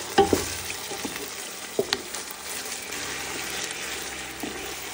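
Bone-in chicken pieces fry and get stirred in a pan for arroz valenciana, with a steady close sizzle and a few sharp scrapes and clinks of the spoon near the start, no voices.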